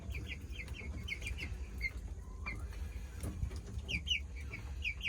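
Chickens cluck and chirp softly in short bursts over a low background rumble, fairly faint and without talking.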